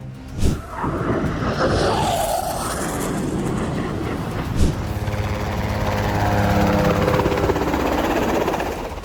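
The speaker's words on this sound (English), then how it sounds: "He's operating that chopper like he could spawn again." A helicopter flying low roars by at close range, its rotor thrum and engine whine loud and sustained, with pitch sweeping as it passes.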